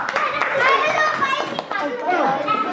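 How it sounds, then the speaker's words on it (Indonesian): A group of children in a school classroom claps in a short burst, mixed with their excited chatter and voices over the clapping. "Tepuk tangan untuk kita semua."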